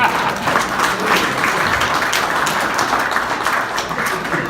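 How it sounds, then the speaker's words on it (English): A room of Republican men's club members gives a loud, sustained round of applause for a governor's speech, dense clapping throughout with no speech over it. "How about a round of applause for that?"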